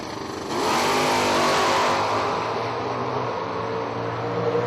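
Drag racing cars launching hard off the starting line at the New Year Nationals, wheels lifting, a loud sustained engine roar surging in after a brief quiet start and holding steady.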